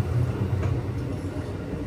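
Inside a moving Vande Bharat train in India, a steady low rumble of running wheels and carriage noise fills the cabin. It is an even, unbroken drone with no voices on top.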